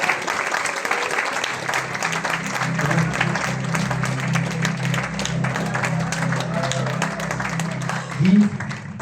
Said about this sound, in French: Vous pouvez repartir sous les applaudissements du public.